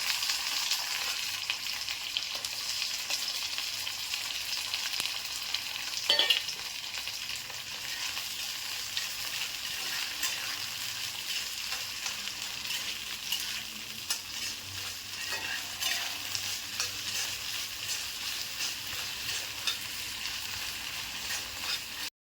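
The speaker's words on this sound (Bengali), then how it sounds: "আমি এখন পেঁয়াজগুলো ভেজে নিচ্ছি, হালকা করে পেঁয়াজগুলো ভেজে নেব।" Onions fry in hot oil with a continuous close sizzle and hiss, occasional scrapes of stirring, no voices.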